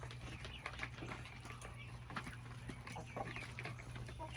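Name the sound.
backyard chicken clucking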